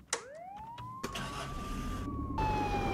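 A police car siren switches on in the video game Contraband Police: a few clicks, then a wailing tone that sweeps upward and settles into a loud, steady siren, with no talk.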